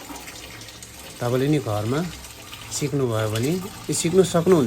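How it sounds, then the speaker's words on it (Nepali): Cold water running from a household tap beside a newly fitted electric geyser, a faint steady hiss and splash heard under someone speaking throughout. "यो चिसो पानी आउँदैछ।"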